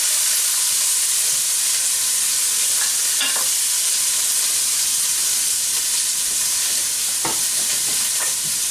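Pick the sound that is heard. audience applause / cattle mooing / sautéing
sautéing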